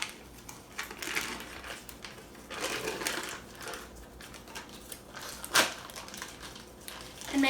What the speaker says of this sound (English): You are going to add the cream cheese and the butter to the mixture and just get them all whipped together.